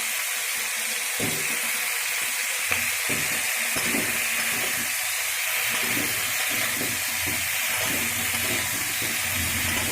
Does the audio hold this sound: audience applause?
no